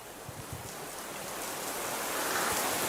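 Steady rain falling on surfaces, a dense, continuous hiss that swells slightly louder toward the end, with scattered low drops and no voices.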